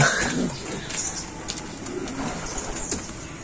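Pigeons coo softly and repeatedly close by, with light flutters and wing rustles over a steady background hum.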